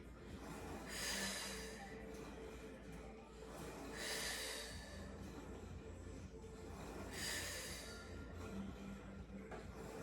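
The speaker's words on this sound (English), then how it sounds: "Exhale around and back." Three strong, forceful exhales spaced a few seconds apart during a Total Gym mermaid twisting exercise, each a loud breathy rush standing out over a low steady background hum.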